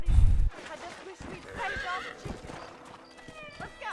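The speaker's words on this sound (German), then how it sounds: "John Marston reitet mit dem Pferd durch den Hühnerstall." In the Red Dead Redemption video game, a horse is ridden through a chicken coop, giving a loud, close whinny followed by rapid hoof clip-clops and scattered game noises.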